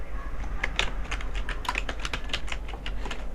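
Fast, irregular clicking keystrokes on a computer keyboard, close and clear, with no talking.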